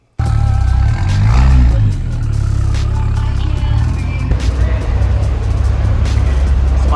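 A BMW X5 with an N55 engine runs hard on a dyno, a loud, steady engine roar that kicks in abruptly and holds without a break, with a brief swell in pitch early on.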